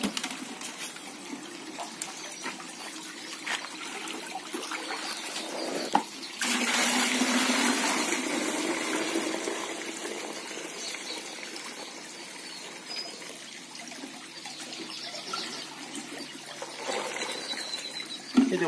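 Tap water runs steadily into a container while about 20 liters are measured out to mix bonsai fertilizer, a continuous close rushing that swells louder midway and then settles back to a steady pour, with no talking.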